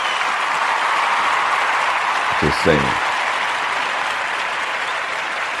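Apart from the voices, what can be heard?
audience applause for King F.L.O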